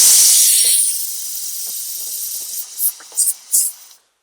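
A pressure cooker whistle vents steam while ghee rice cooks, a loud close hiss that fades to a softer rush, then three short bursts of hissing before it cuts off.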